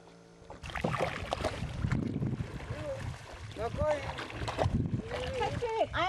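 Paddles splash and dip in water as a boat is rowed on an East African lake, with soft rhythmic strokes and drips under voices talking throughout.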